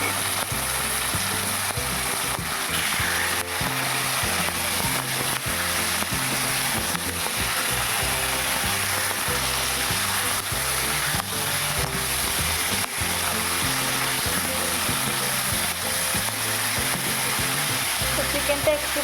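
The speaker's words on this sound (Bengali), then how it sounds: "চিকেনটা একটু ভেজে নিয়ে তুলে রাখবো।" Marinated chicken, prepared with lemon juice, salt and curd, fries in oil in a wok, producing a steady, even hiss that continues throughout, with soft music playing underneath.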